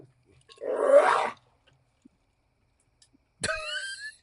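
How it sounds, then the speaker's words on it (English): A dog hacking up something indoors, a rough, wheezy retching burst lasting under a second, followed after a pause by a sharper throaty heave with a brief tonal edge, both close and fairly loud against a quiet room. "That was the dog."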